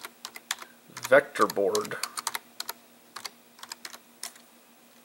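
Quick, light clicks of a computer keyboard as a search is typed, a few fast bursts close by, with a short phrase spoken partway through.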